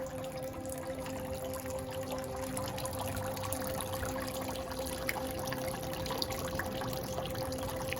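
Water trickles quietly and steadily from a bamboo trough at a Japanese shrine in Itabashi, a faint continuous dribble and splash with a low background hum and no talking.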